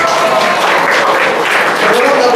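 A church congregation applauds at a Sunday worship service, a dense, steady wash of clapping filling the whole stretch at close range with no pause.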